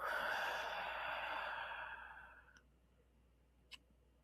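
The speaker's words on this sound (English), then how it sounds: "and then breathing out." A deep, slow exhale during a guided breathing meditation, a soft close rush of breath that fades over about two seconds, followed by a faint tick.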